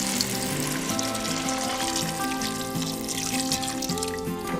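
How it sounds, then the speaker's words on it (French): Vegetable broth pours into a pot of potatoes for pasta e patate, making a continuous rushing sizzle over a sustained tonal hum in the background. "Et nous allons rajouter du bouillon de légumes"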